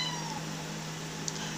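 A cat meows once, close and clear, in a kitchen while a pan heats, over a faint steady background hum.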